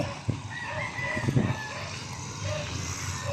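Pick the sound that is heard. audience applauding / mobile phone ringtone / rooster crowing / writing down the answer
rooster crowing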